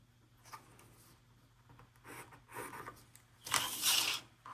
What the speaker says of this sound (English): just kind of drawing a triangle line up to somewhere just a little bit outside the seam allowance